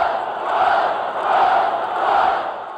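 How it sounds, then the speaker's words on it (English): A packed baseball crowd at County Stadium in Milwaukee chants in a steady, swelling roar, the massed voices rising and falling in rhythmic waves throughout. "the entire stadium began to chant"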